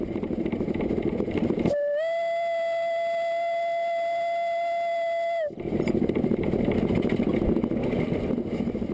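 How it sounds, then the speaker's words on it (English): A single long, steady whistle blast from a steam locomotive on the Isle of Man Steam Railway, heard from the cab at a level crossing, lasting several seconds, loud over rumbling train noise that resumes afterward. "there's another level crossing to pass over and the obligatory blast on the whistle."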